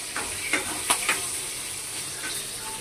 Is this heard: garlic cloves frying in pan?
yes